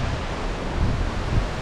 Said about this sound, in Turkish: Hava iyileşir derken iyice fırtına koptu.